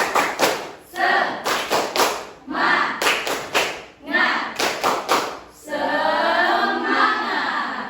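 Students in a classroom perform a clap chant, sharp groups of claps in a patterned rhythm with chanted voices between, ending in a longer sustained shout together.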